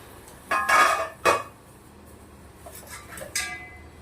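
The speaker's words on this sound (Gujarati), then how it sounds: "હવે આપણે પ્લેટો મૂકી દેવાની છે." Metal plates being set into a steamer over hot water while making Gujarati chana dal khaman: two clear metallic clinks close together, then quieter scattered clatters and a faint scrape of metal on metal.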